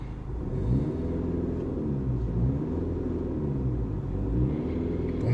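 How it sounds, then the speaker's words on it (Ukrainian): A TDI diesel car's exhaust: a low, steady rumbling drone close by, with a few gentle swells in pitch as the engine rises and falls slightly; no talking. "Ось так звучить його вихлоп."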